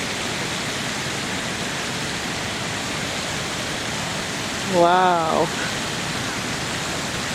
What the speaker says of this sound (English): I'm so excited to show you guys the waterfall today.